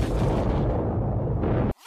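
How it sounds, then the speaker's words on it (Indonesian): Massive explosion from an alien self-destruct device in the 1987 Predator film, a dense, sustained roar of rumbling blast filling the low end before cutting abruptly to near silence, then a faint swell returns. "disusul dengan sebuah ledakan yang sangat dahsyat"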